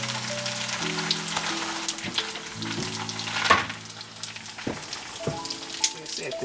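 Collard green egg rolls sizzle and crackle steadily in hot grease, a close, continuous frying hiss with occasional pops, while faint low tones hum in the background.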